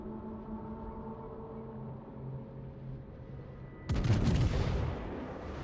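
Battleship main guns firing a salvo of HE shells in a naval video game, one heavy booming blast that breaks out of a low engine hum and rumbles away, loud and close.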